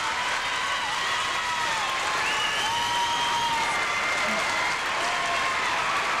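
Dense, sustained applause from a crowd at a 1997 high school girls' gymnastics state finals, with a standing ovation. It stays loud and even throughout, and a faint voice is heard underneath.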